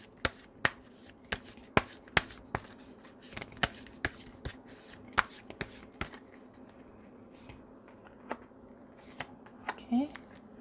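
Tarot cards are shuffled and snapped close to the mic in a quiet room, crisp sharp flicks and riffles coming in irregular bursts with brief pauses, ending with a short faint sound near the end.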